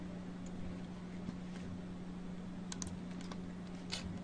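Soft typing on a computer keyboard while searching in a search bar: a few scattered light key taps over a steady low hum, quiet and close, with no speech.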